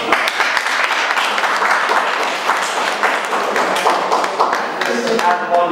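Programme participants get a room's warm round of applause: dense, steady clapping from many hands, close and lively, that runs for several seconds and thins slightly near the end.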